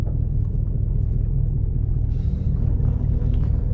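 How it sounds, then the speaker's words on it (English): A 2010 Chevrolet Camaro SS with the L99 V8 rumbles steadily while driving, a deep continuous low drone heard close from inside the car, with no talking. "I'm gonna just let y'all get the sounds of the car"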